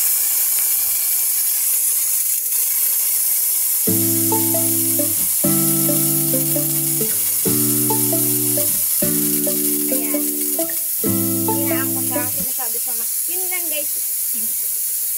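A disinfection spray gun gives off a continuous loud hiss of fog throughout, while a voice and tonal sounds come and go over the middle section.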